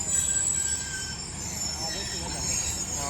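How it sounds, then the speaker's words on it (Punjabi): Long passenger train passing on the Okara–Lahore line, continuous rolling rumble with thin high-pitched wheel squeals drawn out over it, fairly loud and close. "ਚੰਗੀ ਲੰਮੀ ਟ੍ਰੇਨ ਕਿਉਂ ਵੀ ਮੈਂ ਕਿਹਾ ਚੰਗੀ ਲੰਮੀ ਟ੍ਰੇਨ"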